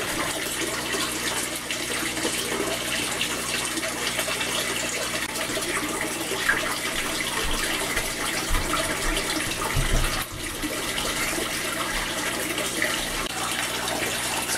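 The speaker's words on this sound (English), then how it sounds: "It's kind of loud, so I'm going to go ahead and turn off all the pump and everything" Aquaponics water pump running in an IBC tote stocked with goldfish, giving a steady, fairly loud stream of gushing, splashing water with a low hum beneath, continuous throughout.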